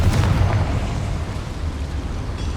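A Confringo fire spell from Hogwarts Legacy detonates in a dense, booming blast, with a rumbling low roar that stays heavy and loud for the full stretch without any voice.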